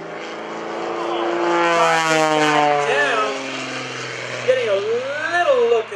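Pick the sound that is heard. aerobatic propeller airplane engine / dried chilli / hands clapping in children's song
aerobatic propeller airplane engine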